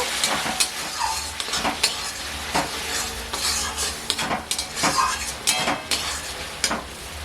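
Tomato paste sautéing in a pan with a steady sizzling hiss, punctuated by frequent scraping and clinking strokes of a stirring utensil, close and continuous.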